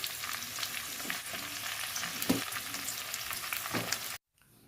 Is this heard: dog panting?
no